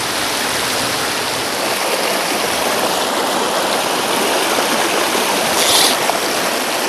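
A river stream flows steadily where fly fishing takes place, a dense, continuous rush of water heard close and alone with no talk.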